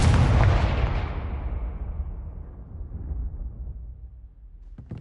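A Confringo fire spell blast in Hogwarts Legacy: one loud, booming explosion at the start that rumbles and slowly fades over several seconds, then a couple of faint clicks at the end.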